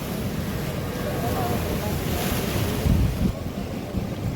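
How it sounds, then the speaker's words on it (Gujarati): Strong sea waves surge and crash at Gomti Ghat in Dwarka, a loud, continuous roar of surf with heavy wind buffeting the microphone. "દરિયાનું તારે રૌદ્ર સ્વરૂપ દેખાઈ રહ્યું છે ગોમતી ઘાટ ઉપર"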